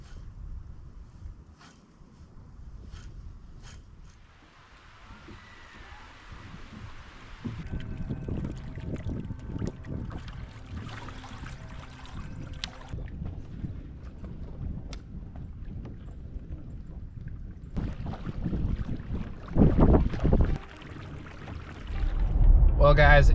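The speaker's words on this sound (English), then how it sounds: "it's really freaking windy right now" Strong wind buffets the microphone on a lake from a fishing kayak, a steady rumbling gust noise that swells louder toward the end, with water sloshing and occasional small knocks.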